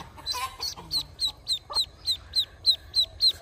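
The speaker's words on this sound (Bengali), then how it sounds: "এটা হলো কায়ুগা হাঁসের বাচ্চা" Cayuga ducklings peep in a rapid, steady series of high, sharp calls, about a dozen evenly spaced chirps, close and clear over a low background rumble.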